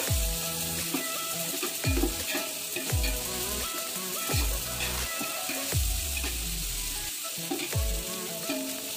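Green chillies sizzling and frying in a pan for egg biryani, a steady loud hiss broken by repeated scraping stirs at roughly one-second intervals, close and continuous with no talking.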